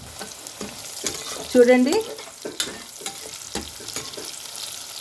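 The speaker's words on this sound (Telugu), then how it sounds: "ఇప్పటి వరకు 3 మినిట్స్ ఫ్రై అవ్వగానే పచ్చివాసన అంతా పోగానే అప్పుడు మనము తీసేసుకుందాం" Bitter gourd frying in a pan as it is stirred: a steady close sizzle with scraping stir strokes and a louder burst of stirring near the middle, and a brief spoken word.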